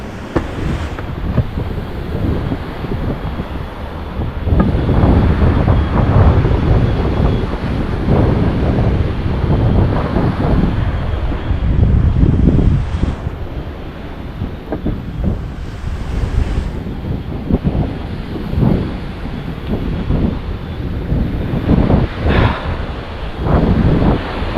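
Strong, gusty wind buffets the microphone outdoors in hot weather, a continuous loud roar with heavier surges throughout and no talk.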